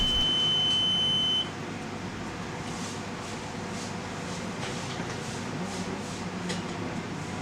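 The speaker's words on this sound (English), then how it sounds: "we simulate the oil mist with smoke detector spray sprayed on the head's path. Apart from hearing the alarm" An oil mist detector alarm on a reconditioned detector head, triggered by smoke spray, gives a steady high-pitched electronic tone for over a second, then cuts off and leaves a constant mechanical hum of machinery.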